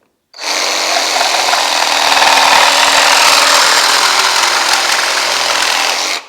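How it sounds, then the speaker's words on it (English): GardenJoy 21V cordless reciprocating saw fitted with a metal-cutting blade slicing through Schedule 40 PVC pipe, a loud, close, continuous buzzing rasp lasting about six seconds before stopping abruptly. "Schedule 40 PVC pipe is a regular thing to cut with a reciprocating saw. Let's see how this metal blade does on PVC."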